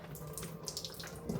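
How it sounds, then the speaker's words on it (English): Liquid from a kimchi sauce pours steadily into a traditional strainer, a close, continuous splashing trickle that runs alone at moderate level with brief spatters toward the end. "I've got just a traditional strainer here, so I'm gonna pour that all out"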